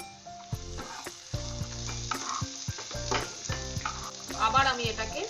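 Shelled peas fry in a pan for veg patties, a busy sizzle with scraping and pressing of the spatula, close and continuous, over a low steady hum.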